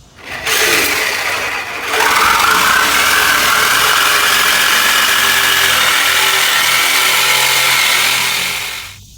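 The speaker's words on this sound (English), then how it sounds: "So the part that you're cutting it's this cross member right here." A power tool cuts through the steel frame cross member of a 2021 Chevy Silverado Trail Boss during a 4-inch lift kit install, giving a loud, continuous grinding roar with a steady high whine for several seconds before tapering off.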